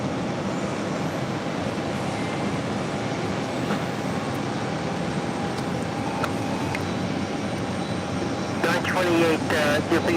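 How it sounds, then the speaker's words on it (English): An Aer Lingus Airbus A321neo arriving at JFK from Shannon on runway 4 Right gives a loud, sustained engine rumble that holds steady, with radio chatter and talk breaking in near the end. "It's Air Lingus A321 Neo coming in from Shannon,"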